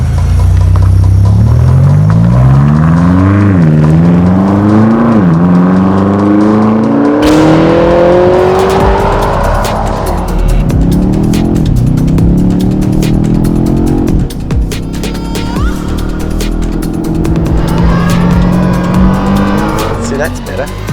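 A BMW accelerates hard through the first corner of a mountain course, its engine note climbing and falling through gear changes with tire squeal, loud and close throughout, with people talking over it.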